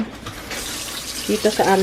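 Filtered water runs from a tap into a container in a kitchen, a steady close splashing stream with a brief sound at the start, while a voice talks over the filling.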